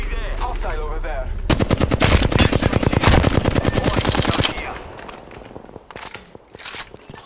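Rapid automatic gunfire from a video game firefight in Apex Legends, a long loud burst of evenly spaced shots lasting several seconds, then trailing off into scattered lighter noises.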